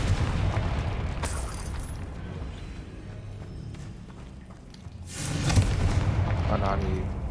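A Confringo fire spell bursts in the video game Hogwarts Legacy, with heavy booming blasts near the start and again toward the end over a dense rumbling game soundscape.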